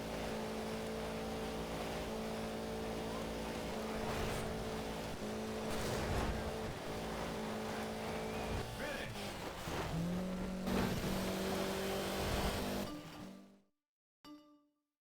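Audi Quattro rally car engine in a racing video game, a sustained high revving drone with gear-change dips and shifting pitch, loud and continuous before cutting off abruptly near the end.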